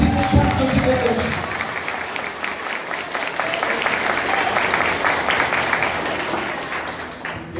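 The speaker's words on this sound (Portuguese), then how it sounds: "Quando dá uma salva de palmas ao Espírito Santo de Deus" A church congregation bursts into sustained applause during a Sunday morning prophetic service, dense clapping filling the room steadily before fading slightly at the end, with voices mixed in.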